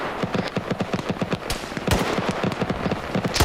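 A BTR armoured vehicle's autocannon firing in a military video game, with rapid sustained bursts of sharp, loud reports and heavier booms mixed in.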